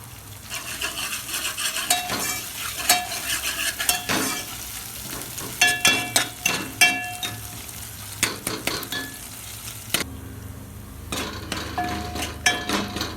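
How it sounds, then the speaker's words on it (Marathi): Ginger garlic paste fries with onions in a pan for Marathi chicken rassa, giving a steady close sizzle broken by repeated sharp scrapes and clinks of a spoon stirring against the metal pan. "कांद्याबरोबर अद्रक लसण पेस्ट बी चांगली फ्राय करून घेतली आहे"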